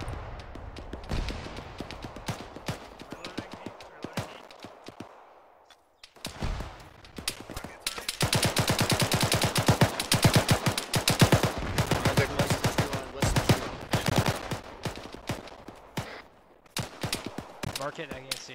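Sustained gunfire in an ArmA 3 ambush battle, rapid automatic bursts and single shots crackling loud and dense with a short lull partway, mixed with radio-style voices talking.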